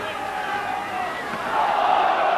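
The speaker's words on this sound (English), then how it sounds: "again this cry of forward from this crowd" Rugby league stadium crowd at a Bradford v Leeds match, sustained roar of many voices swelling louder near the end, a broad massed cry over continuous crowd noise.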